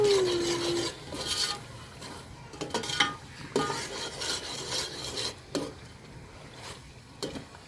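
A spoon scrapes and stirs khushka masala around a cooking pot, repeated rasping strokes and occasional metallic clinks close by, with no talking.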